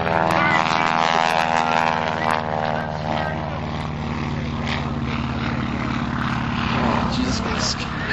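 An aerobatic airplane maneuvers at a barnstorming air show, its propeller engine droning loud and continuous while the pitch shifts through the maneuver, under the steady talk of an announcer.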